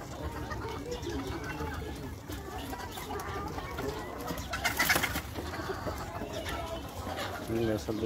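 Pigeons coo and other caged birds call at a poultry market, with soft, repeated calls mixed with bursts of chatter while people talk nearby.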